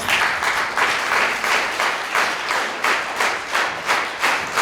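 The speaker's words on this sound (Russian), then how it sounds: "Мы хотим вас поблагодарить аплодисментами." A hall audience applauds veterans in a loud, sustained wave of clapping that falls into rhythmic, unified beats, pulsing roughly twice per second from start to finish.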